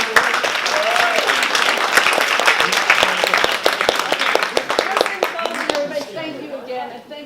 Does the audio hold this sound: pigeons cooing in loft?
no